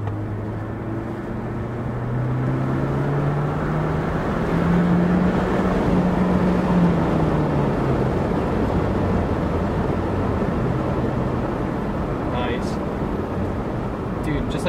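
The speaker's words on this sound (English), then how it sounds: "so you guys can hopefully hear the turbo and a little bit of the exhaust echo" A 2013 Hyundai Genesis Coupe 2.0T accelerating hard under a bridge, its turbocharged engine and exhaust droning and rising in pitch as it echoes, a steady loud roar inside the cabin.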